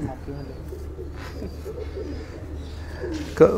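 A pigeon coos softly and low nearby under a quiet ambient hum, while someone speaks in the background.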